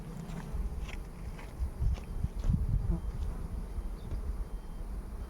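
A low, steady buzz of Anatolian honey bees (Bilecik ecotype) hums throughout around their hive, with occasional soft knocks and rustles close by.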